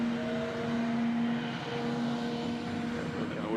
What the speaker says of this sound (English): The noise you hear is a bus on the right side of my location.